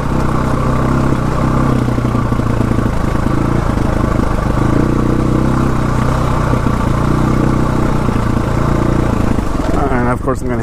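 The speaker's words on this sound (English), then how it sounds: "I'll let the engine do the braking for me." A dual sport motorcycle engine braking down a steep dirt section of Potato Farm Road in West Virginia drones steadily in low gear, a loud, continuous mid-pitched hum close to the rider with no speech.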